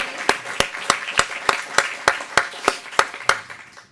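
Slow, evenly spaced hand claps, about a dozen sharp beats roughly every third of a second, from a small audience honoring a person at a 2018 screening event.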